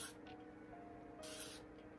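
Short hissing bursts from a spray bottle misting hair roots while locs are styled, two quick sprays close by, quiet and soft.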